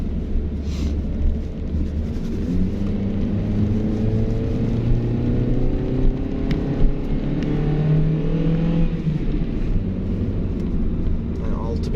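A 2013 Mazda 3 running on LPG accelerates up a hill, its engine droning with a steady rising hum and rumbling cabin noise that climbs gradually in pitch over about twelve seconds, heard from inside the car.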